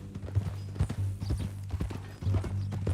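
Horse hooves clip-clop in Red Dead Redemption 2, a steady, irregular walking rhythm of hollow knocks close by, with no one talking during the footsteps.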